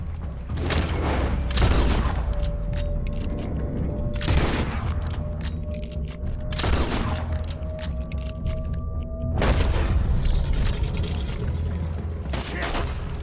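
Gunfire in Red Dead Redemption 2 during a shootout: loud booming shots and fast volleys recur every couple of seconds over a heavy low rumble, with ringing tones hanging between blasts.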